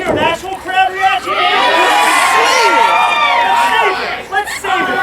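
A wrestling crowd at a UWA Elite event cheers and yells together, a loud, sustained roar of many voices with shouts rising above it that swells, holds and then eases.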